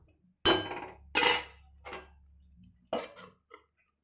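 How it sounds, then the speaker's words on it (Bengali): A cooking pot of potato, soya chunk and papaya curry being covered with its lid, several close metallic clanks and clinks spread over a few seconds, the first two loudest, then fainter taps. "এবার এবার আমি এটা ঢাকা দিয়ে দেবো একটু।"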